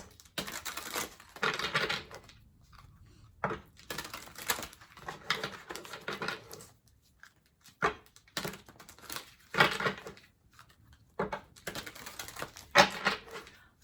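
Bursts of crisp papery shuffling and riffling of tarot cards, several separate rounds of card handling with short quiet gaps between them, close up.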